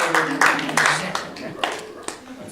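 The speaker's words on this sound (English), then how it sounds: "And the crowd roars." Audience clapping at a live music cafe comes in brief scattered bursts, mixed with voices and talk close by.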